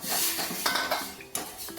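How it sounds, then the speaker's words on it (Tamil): Close, busy scraping and mashing in a pot of payasam, with a ladle pressing and knocking against the metal in short uneven strokes. "நல்ல ஒரு கரண்டியால் ஒரு மசிச்சுக்கலாம்"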